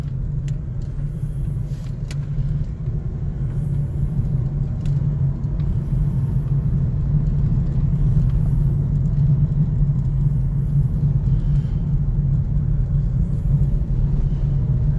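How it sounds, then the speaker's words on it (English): A car driving along a bumpy, pothole-filled back road, its steady engine and road rumble loud and continuous throughout, with occasional small rattles and knocks inside the cabin. "Though I guess technically I shouldn't be really filming myself driving."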